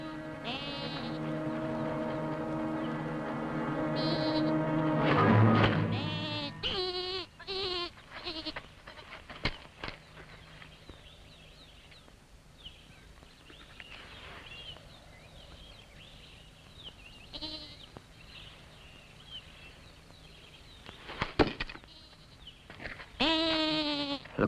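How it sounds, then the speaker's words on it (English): Goats bleat on an island in a 1964 adventure series, with a loud wavering cry near the start, quieter scattered sounds through the middle and more bleats near the end. "There are goats here."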